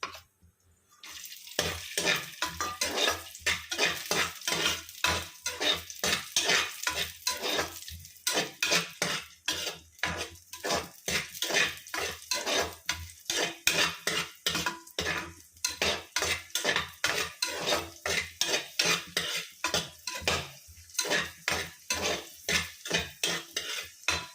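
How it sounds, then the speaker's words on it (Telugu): Raisins frying in a pan for carrot rava laddu, stirred with a metal spoon that scrapes and clinks against the pan in a steady rhythm over a constant sizzle. It is close and continuous, with no one talking. "కిస్మిస్, ద్రాక్ష పళ్ళు అయిపోతున్నాయి వేగేసరికి"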